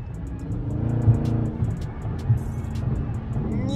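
Cars rumble and rev at a busy car meet as drivers cut up, with a steady low engine drone that swells and eases while vehicles move close by.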